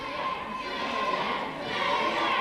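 A wrestling crowd chants and shouts in a steady, dense wash of voices throughout, loud and somewhat distant, with no clear single speaker.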